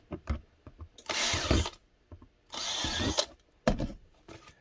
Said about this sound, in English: Drill the freaking holes.